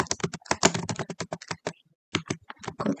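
Typing on a computer keyboard, a rapid close burst of crisp key clicks with a short pause midway before the tapping resumes.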